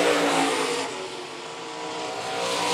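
IMCA Sunoco stock cars race on the dirt track at Phillips County Raceway, their engines roaring loud and close in a steady, slightly swelling drone with no voices.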